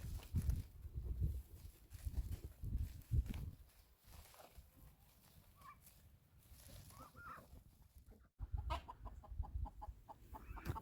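A loose backyard hen clucks softly at a moderate distance on a farm with donkeys nearby, with a few scattered clucks amid rustling and light footsteps.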